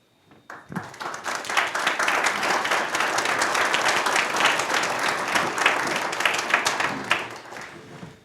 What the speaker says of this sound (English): Just one more round of applause for Noah